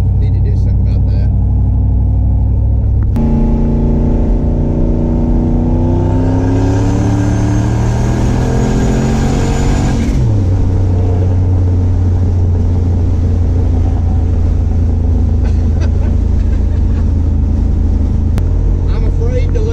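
A turbocharged LS-swapped Chevrolet C10 pickup truck accelerating hard at full throttle, with a loud, close engine roar rising in pitch, a shift break partway through, then a steady drone under occupants talking.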